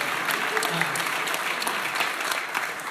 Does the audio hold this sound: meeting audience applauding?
yes